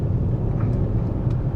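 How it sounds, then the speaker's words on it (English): A Range Rover Velar D300 with a 3-litre diesel engine accelerates hard as its turbos build, a loud, steady low engine rumble heard from inside the cabin with no speech over it. "And there we go, the turbos kick in"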